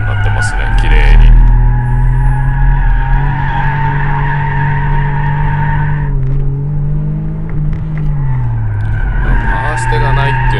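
An inertia drift in a car with heavy steering and no power steering, a loud sustained engine drone with tire noise. The pitch dips and rises as the throttle changes, then the engine builds again near the end.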